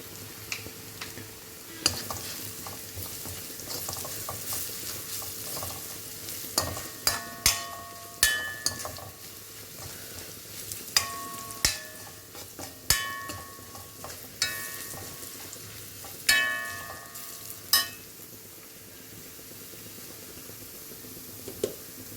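Crushed dried red chillies drop into onion and garlic sautéing for a broad bean stir-fry. A quiet, steady frying hiss runs under it, and sharp spoon clinks and scrapes against the pan come at irregular intervals.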